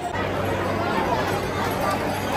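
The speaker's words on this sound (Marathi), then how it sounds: "सो त्यामुळे भाविकांची आणि भक्तजनांची भरपूर गर्दी आहे" Dense crowd of devotees at the Tuljapur temple on the first day of Chaitra Purnima, a steady wash of overlapping voices and babble filling the space without pause.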